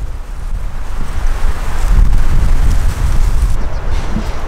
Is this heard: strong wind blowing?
yes